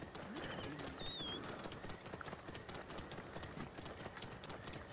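Horse hooves clip-clopping at a steady gait while riding in Assassin's Creed Origins, a quiet, continuous rhythmic patter under faint game ambience, with no talking.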